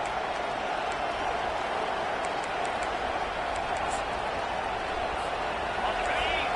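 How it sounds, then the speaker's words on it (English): The crowd at an American football stadium roars in one steady, loud wash that holds without a break while a commentator talks over it. "listen to this crowd roar"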